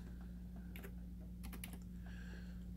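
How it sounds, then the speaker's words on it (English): A computer keyboard being used to enter a search in the Windows control panel, with a few quick clusters of soft key taps over a steady hum, faint and close. "You go to control panel and you just type in a search BitLocker"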